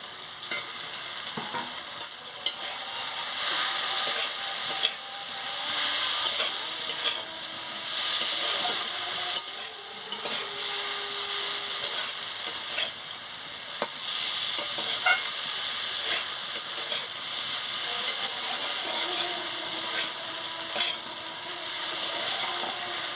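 Mustard and cumin paste goes into small crabs frying in a pan, raising a continuous, close sizzle with frequent scraping and stirring clatter throughout.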